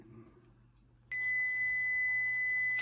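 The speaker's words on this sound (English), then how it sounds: "5-minute timer done." A kitchen timer goes off after five minutes of boiling amaranth cereal, a loud, steady electronic beep starting about a third of the way in and holding on continuously over a low background hum.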